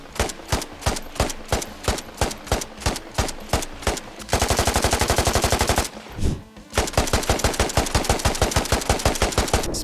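Rapid bursts of AK-12 rifle gunfire in the military shooter game Squad, loud and close, with short repeated volleys followed by a sustained full-auto stream, a brief pause, then more fast automatic fire.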